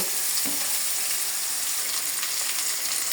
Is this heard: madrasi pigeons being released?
no